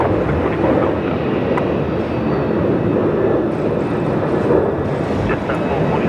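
A Qantas jet arriving from Sydney on approach to Melbourne Airport gives a steady, moderately loud engine rumble mixed with wind buffeting, with a few faint clicks above.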